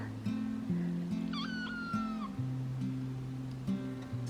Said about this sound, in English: She's just a tiny little kitten.